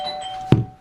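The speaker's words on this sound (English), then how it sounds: "Ding dong." A doorbell sounds once, a short tone followed by a heavy thunk, close and fairly loud against a low hum.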